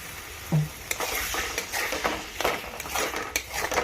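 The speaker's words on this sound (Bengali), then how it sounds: "এবার নাড়াচাড়া করে" Spices with turmeric and a splash of water sizzle in a frying pan while a spoon stirs and scrapes through them during egg kofta cooking. The sizzling is close and continuous, broken by brief clinks, and no one talks.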